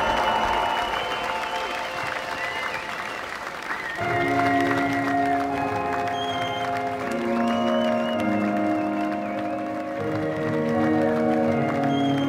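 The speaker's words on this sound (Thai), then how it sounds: "ขอเสียงปรบมือด้วยค่ะ" An audience at a stage performance claps in a sustained, even wash of applause, with light crowd noise. Tonal music plays strongly over and alongside the clapping the whole time.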